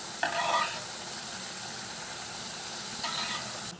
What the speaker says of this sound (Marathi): आता हे अंडी फ्राय केलेले आपण ह्याच्यामध्ये सोडायचं आहे.